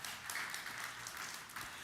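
Applause from a church congregation during a sermon, a steady wash of clapping that holds evenly for the full moment without a break.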